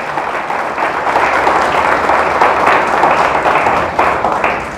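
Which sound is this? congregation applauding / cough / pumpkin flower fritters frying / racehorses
congregation applauding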